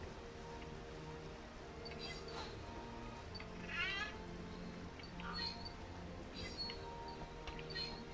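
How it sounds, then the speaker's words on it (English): A cat, apparently out hunting, gives a few faint, short meows over a steady background hum, with soft rustling and occasional voice-like sounds mixed in. "Kitty cat."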